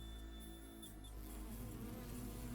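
Bees buzz in a video game scene from The Hundred Line Last Defense Academy, a steady droning hum hovering close and continuous throughout with no talk over it.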